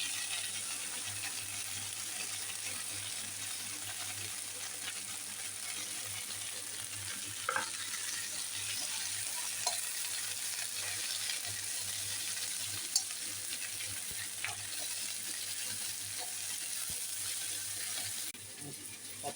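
Onions sauté in oil in a pan for green chutney, giving a faint, even sizzle with a few light spatula clicks scattered through it.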